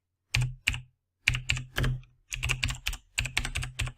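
Keys clatter on a computer keyboard in quick bursts as a group name is typed, close and crisp, with short pauses between runs of keystrokes and no talk.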